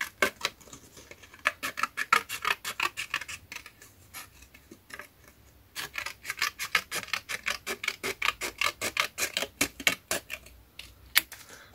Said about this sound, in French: Alors ça veut dire que je vais juste couper un tout petit chouïa là.